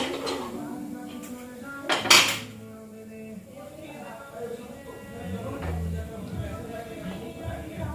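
Checking boiled bananas in a pressure cooker brings metallic clatter of the lid and pot, with one sharp clang near the start and softer knocks after, under a voice speaking.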